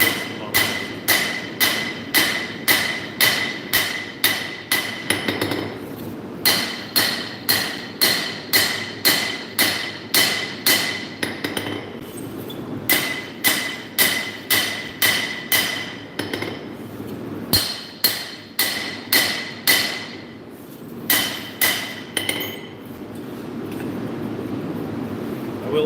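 Steady hammer blows forging metal come in rapid bursts with short pauses between them, each strike sharp, ringing and close.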